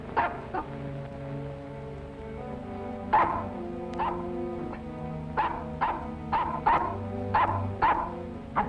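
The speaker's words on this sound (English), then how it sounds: "What the dickens are you barking at?" A dog barks repeatedly at a steady, moderate distance, single sharp woofs spaced irregularly, with some whining tones between them.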